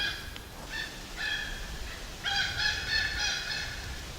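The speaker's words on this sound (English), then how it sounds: "I hear crows outside the tent." Crows calling outside a tent in the forest the morning after a storm, a series of harsh cawing calls in bursts, fairly near, over a quiet outdoor background with no talk.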